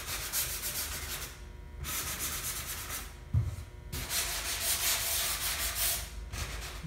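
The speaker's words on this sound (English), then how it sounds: "So I'm just going to lightly sand," Light hand sanding over chalk paint on a raised stencil design, mainly in the corners: close, soft scratchy rubbing in long back-and-forth strokes with short pauses and one small bump between passes.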